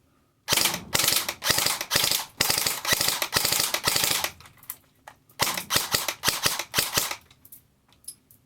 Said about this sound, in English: All you can hear is a bit of the motor whine, but not much I can do about that.